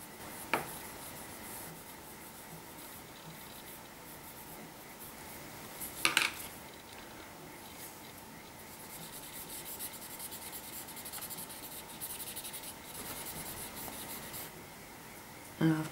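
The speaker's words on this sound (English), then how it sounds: "I've got a couple of Prisma pencils here just to ground this" Prisma colored pencil scratching and rubbing across paper during a stamping and die-cutting craft session, a steady faint scraping texture with a couple of sharper taps, close and quiet throughout.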